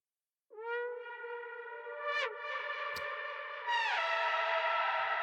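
A synthesized tone from a remix with filter automation sweeping its timbre, a sustained harmonic note whose brightness shifts in steps, with a soft reverb tail.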